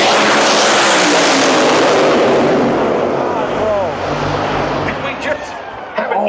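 Drag racing cars, including Top Fuel and Top Doorslammer machines at Sydney Dragway, launch with an immensely loud, crackling roar that fills the air, then fade as they pull away down the strip, with crowd noise and a voice near the end.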